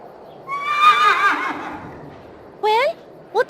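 Horse neighing in the video game A Vampyre Story: a long, loud whinny with a shaking, descending pitch, then after a pause two shorter, sharp whinnies, with the horse close by.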